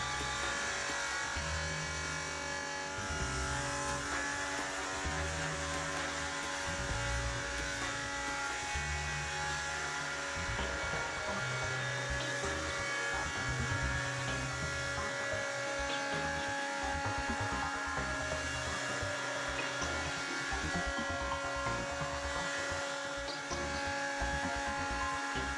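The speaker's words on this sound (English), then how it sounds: "set the cutting depth of the second stage and repeat the milling procedure into the opposite direction" BDS Maschinen AutoCUT 500 chamfering machine milling an edge, a steady high-pitched motor whine and grinding hum with intermittent lower buzzing passes, constant and moderately loud.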